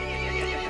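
A horse neighs loudly in Resident Evil Village, one steady whinny filling the short moment with a faint clip-clop of hooves beneath it.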